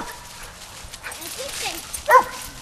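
Dogs outdoors in wet leaves on a cool day whimper with thin high whines, then give a short sharp bark near the end, close and moderately loud.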